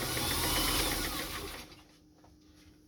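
A Brother HA 4 sewing machine stitches fabric at a longer stitch length, a fast, close mechanical whirr that runs steadily, then trails off into quiet near the end.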